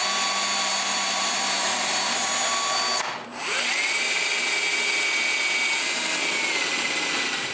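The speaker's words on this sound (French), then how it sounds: "Maintenant, je peux percer le trou pilote juste un peu plus près de la base de la caméra." A power drill bores a pilot hole in a wooden tripod near the camera base, giving a loud, close, high whine that cuts out briefly around the middle before spinning back up and holding steady.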